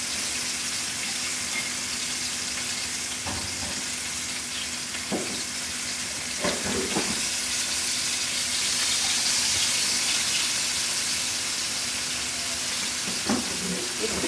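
Food sizzles and fries in a skillet, a steady broadband hiss running throughout with a few brief clinks and stirring scrapes near and moderately loud, no talk.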